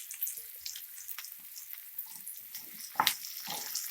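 Onion and freshly added snake gourd frying in a pan for a Kannada-style kootu with chana dal, a soft continuous sizzle with scattered crackles and a brief louder stir near the end, close and with no talking.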